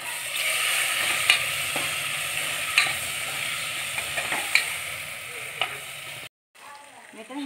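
Tomatoes fry in a pan for chicken curry, a steady close sizzle broken by occasional spoon clicks and scrapes, then a sudden brief cut to silence near the end.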